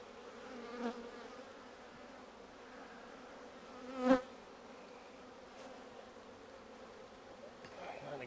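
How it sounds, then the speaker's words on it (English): Honey bees in a hive tucked underneath a structure, a steady low insect buzz droning continuously, fairly faint, with a couple of brief louder swells as individual bees pass close. "I've got a whole hive going underneath here"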